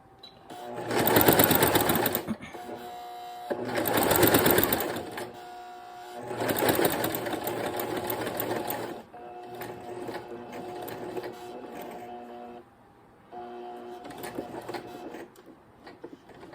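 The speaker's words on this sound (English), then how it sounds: "So we're going to sew all the way to a 1/4 inch of the corner" A sewing machine stitches a seam up to a quarter inch from the corner, with several runs of rapid mechanical whirring separated by short pauses, close and clear.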